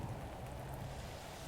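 Steady rain in the Roblox game Natural Disaster Survival, a continuous broadband wash of falling drops with low rumble, loud and constant throughout with no talking.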